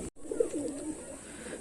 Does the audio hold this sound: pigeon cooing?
yes